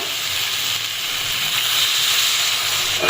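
Water hits hot fried spice masala in a pan, giving a loud, steady sizzling hiss of steam that swells slightly toward the end.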